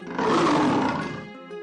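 A tiger gives one loud, rough roar after leaving its cage, swelling quickly and trailing off within about a second and a half.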